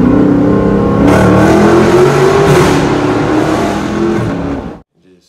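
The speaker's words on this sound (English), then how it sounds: "when you hear that exhaust of that Hemi" A loud Hemi 392 V8 engine revs and roars steadily, its deep rumbling exhaust filling the clip before cutting off abruptly near the end.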